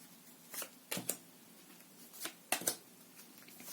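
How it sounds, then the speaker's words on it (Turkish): A pack of playing cards and a tarot deck shuffled by hand, close and quiet, in several short riffling bursts separated by pauses. "Ve siyah için tekrar karıştırıyorum."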